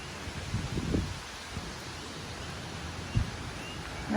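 Gusty wind stirs leaves at a park campground on Skidaway Island on a windy day, a steady broadband rush with a few louder gusts and rustles rising and falling, moderately close and with no voices.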